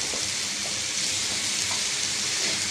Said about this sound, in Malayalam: തക്കാളിയും ഉള്ളിയും വെളുത്തുള്ളി ഇഞ്ചി എല്ലാം വഴന്നിട്ടുണ്ട്. ഇതിലേക്ക് നമുക്ക് ഒരു സ്പൂണ് എരിവില്ലാത്ത മുളക് പൊടി കൊടുക്കാം.